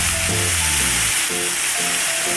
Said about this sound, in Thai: จากนั้นก็ผัดให้เข้ากันนะคะ ให้สุกแล้วก็ให้เข้ากันค่ะ